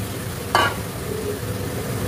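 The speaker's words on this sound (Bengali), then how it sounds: "চিকেনের সঙ্গে না রসুনগুলোও দিয়ে দেবো" Chicken pieces and garlic cloves fry in a pan with a constant close sizzle, broken by one sharp scrape of stirring near the start.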